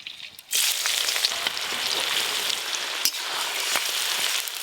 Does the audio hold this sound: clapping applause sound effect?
no